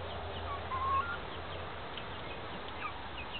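Chickens in an Arduino-controlled chicken coop give faint, brief bird calls over a steady low background hum, with no talking.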